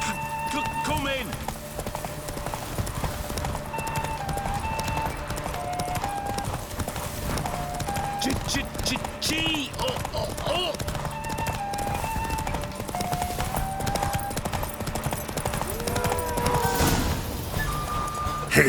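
Horse hooves clip-clop rapidly and steadily during a horse race in the video game The Witcher, running continuously under a music score with talk over the top.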